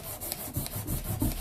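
Wet sandpaper rubbed by hand over a rough, pitted aluminum part during polishing, a soft rhythmic scraping of repeated back-and-forth strokes, close and fairly quiet.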